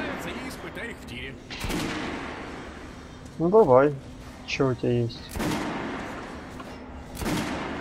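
Sharp gunshots from weapons test-fired at a shooting range in the game Metro Last Light Redux ring out near and loud, a few widely spaced single bursts, with someone talking between them.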